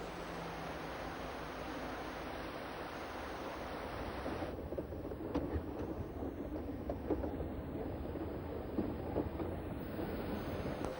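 Schynige Platte Railway train running on its 800mm mountain track beside metre-gauge rails, a steady continuous rumble and rolling clatter with occasional rail clicks, moderately close and without talk.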